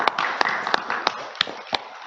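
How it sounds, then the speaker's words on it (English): Audience clapping at a Sunday satsang at a Vedic cultural centre, a short burst of sharp, evenly spaced claps standing out over a soft room murmur. "big round of applause to Risha"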